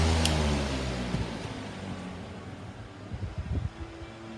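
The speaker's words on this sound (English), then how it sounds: "It's got a pretty loud, not loud, long spin down, but still blows a lot of air." A 1996 Patton U2-20P high-velocity air circulator fan spinning down after being switched off, its hum fading over a few seconds while faint rustles and thumps come through near the end.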